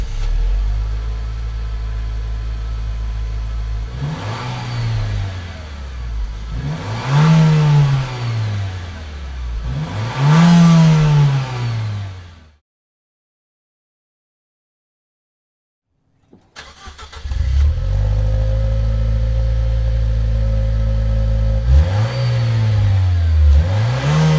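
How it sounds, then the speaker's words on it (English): A Nissan Juke with a Nismo exhaust revs hard from outside, several sharp bursts rising and falling, then a brief silence before it rumbles back and revs again. "you've heard the exhaust from the outside"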